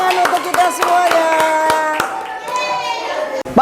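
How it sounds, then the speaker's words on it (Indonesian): Children in a classroom clap together in a brisk rhythm of sharp hand claps, mixed with kids' voices and a sung or chanted tone, loud and close. "Tepuk tangan untuk kita semuanya."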